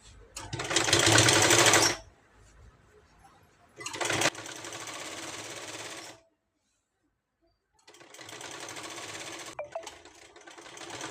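A sewing machine stitches a blouse seam in three loud, close runs of steady whirring, separated by brief pauses and near silence.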